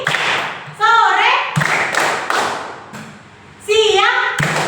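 Schoolchildren in a sixth-grade class do a rhythmic group cheer, sharp claps and thumps in patterned bursts alternating with a teacher's voice and chanting.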